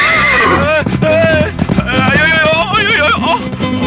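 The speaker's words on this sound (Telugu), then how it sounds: "గుర్రం వెళ్ళింది, గుర్రం మీద మనిషి వెళ్ళాడు." A horse gallops off with clattering hooves and loud, shrill neighs close by, the sound dense and busy throughout the short burst, with voices under it.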